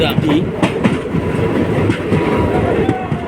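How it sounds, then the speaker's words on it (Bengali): Express train with ten general coaches running on the Sealdah route, a steady loud rumble of wheels and carriages with faint clacking throughout, close by and continuous. "দশটা জেনারেল কোচ নিয়ে এই ট্রেনটি ছুটে চলে"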